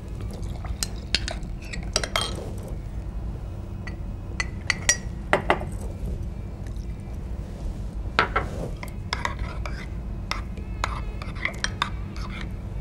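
Almonds and pistachios stirred with milk in a bowl for badam paal poli, with soft clinks of a spoon against the bowl and light stirring scrapes, scattered and quiet over a steady room hum.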